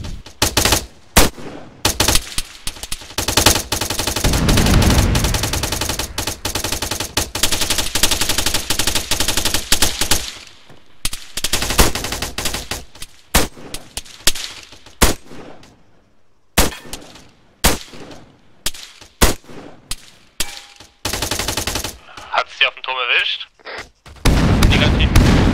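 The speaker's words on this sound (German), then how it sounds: "Hier ist irgendwo ein GMG in der Nähe." Grenade machine gun and rifle fire rattle through an ARMA 3 firefight in dense, loud bursts and scattered single shots, with German voices talking between volleys.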